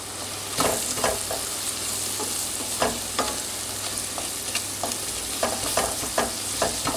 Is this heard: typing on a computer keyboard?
no